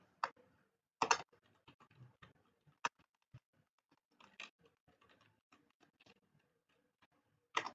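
Scattered keystrokes on a computer keyboard come as irregular soft clicks with a few sharper taps and pauses between them, close and quiet, with no voice.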